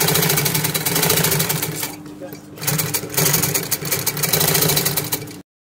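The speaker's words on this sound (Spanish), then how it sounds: "Aquí estamos cosiendo las correitas." Sewing machine stitching velcro straps onto a shoe in a repair shop, a steady mechanical whir running in bursts with a brief pause partway through, close and fairly loud, with a voice talking over it.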